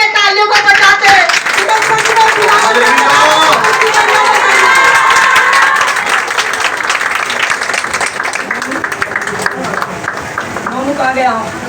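A church congregation at a Sunday meeting claps and cheers loudly and continuously, a dense wash of applause with shouting voices and a preacher talking over it.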